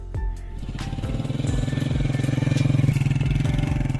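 Motorcycle engine on a mountain road in Nagar, Gilgit Baltistan, running steadily with a rapid pulsing rhythm that swells slightly after a brief start, loud and close throughout.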